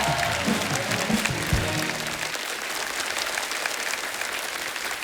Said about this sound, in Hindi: वाह क्या तालियां बज रही